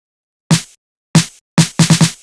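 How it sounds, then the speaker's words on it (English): A short snare roll in an FL Studio rage beat: two separate crisp snare hits, then a quick accelerating burst of four hits. Dry, punchy and loud, with no voices. "we have a little snare roll"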